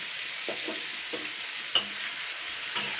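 Onion and meat seasoned with salt and turmeric fry in a pan for a chui jhal meat curry, giving a soft, continuous sizzle broken by a few brief stirring scrapes and knocks.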